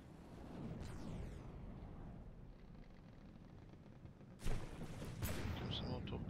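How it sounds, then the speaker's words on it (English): Torpedoes striking a battleship in the naval combat game From the Depths, heard as a continuous deep rumble of distant explosions, with a sharper, louder blast near the end followed by ongoing booming. "Here comes some more torpedoes."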